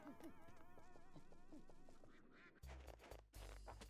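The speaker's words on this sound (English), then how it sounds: "What's with the ducks?" Cartoonish duck quacks from the video game Pikmin come in a quick run of squawks over bouncy game music, then give way to louder, choppier game sounds.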